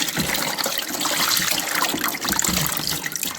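Water pressed and strained out of a mashed plant extract for poultry, the waste being held back, pouring in a steady broadband splashing trickle that runs close and fairly loud for the whole stretch, with no talk.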